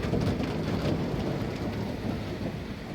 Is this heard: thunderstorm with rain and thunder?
yes